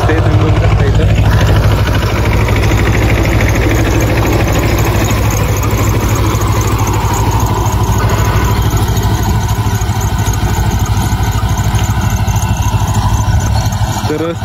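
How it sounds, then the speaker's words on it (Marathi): A tractor spraying pesticide over a chickpea field, its engine running as a loud, steady drone for the whole stretch, close by and unbroken. "आपला ट्रॅक्टर आलेला आहे फवारत आणि कशा प्रकारे औषध बसते तुम्ही बघू शकता इथं"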